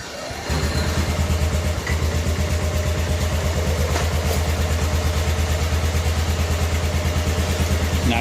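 A 1988 Club Car golf cart, a barn find with its 8.5 hp Kawasaki engine, starts after half a second and settles into a steady, close, loud chugging idle that runs evenly to the end with no talking.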